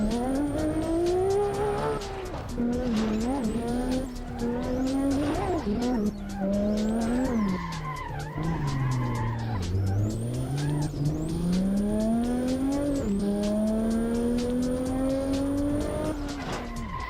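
Arcade-style car driven aggressively through dense freeway traffic in a racing game, engine droning and revving continuously with shifting pitch, repeated tire squeals and skids, and brief collision thumps, loud and steady throughout.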